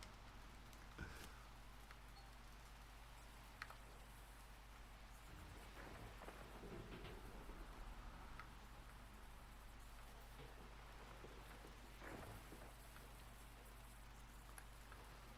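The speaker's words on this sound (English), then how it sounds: "now I'm hearing the rain on here" Steady rain falls in the GoldRush video game, a dense, even patter of drops that keeps up the whole time with a few louder splashes and no talking.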